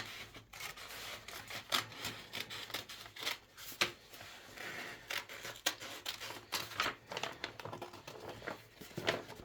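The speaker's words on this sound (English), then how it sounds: "So I'm just going to cut down the long side here." Scissors snipping down the long side of a paper carrier bag to make strips, a quiet, close series of crisp cuts and paper rustles in an irregular rhythm.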